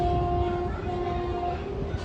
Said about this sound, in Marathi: ट्रेन आहे